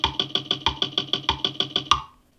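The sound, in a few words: GarageBand guitar loop with full treble, bass removed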